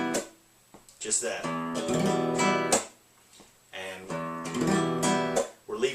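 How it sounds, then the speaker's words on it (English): Latin ballad strum on an acoustic guitar, with a percussive slap on beat three; two strummed phrases separated by short pauses, a brief spoken word at the start. "So then, if you do the slap on beat 3, it'll sound like this"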